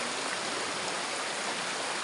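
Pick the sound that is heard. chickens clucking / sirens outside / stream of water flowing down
stream of water flowing down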